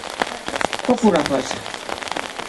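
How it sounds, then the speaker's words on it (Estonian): Rain pattering steadily over an outdoor opening ceremony for a new building, with a person speaking over the constant patter. "Ma arvan, et see vihm on ka sümboolne."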